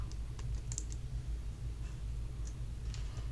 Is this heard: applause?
no